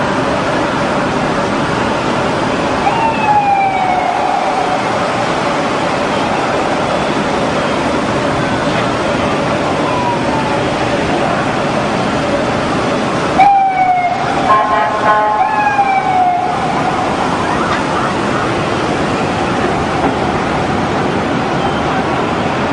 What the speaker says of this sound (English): Some emergency service vehicles heading away from the World Trade Center.